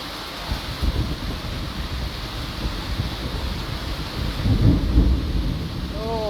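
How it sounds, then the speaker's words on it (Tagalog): Low rolling thunder rumbles beneath a steady hiss of heavy rain during a storm, swelling into a deeper, louder peal near the end, heard from a small shop with no talking. "Oh, rinig mo ba yung kulog?"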